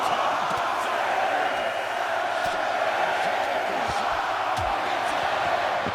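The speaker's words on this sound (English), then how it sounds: "The crowd counting along." A wrestling arena crowd roaring steadily, a dense wall of many voices from a large audience with scattered thuds and slaps in the ring beneath it.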